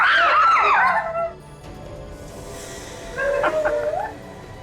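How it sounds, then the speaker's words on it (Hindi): A shrill, wavering scream rings out for about a second, then a quieter stretch, followed by another shorter, fainter cry. "इन लोगों की चीखें सुनी आपने?"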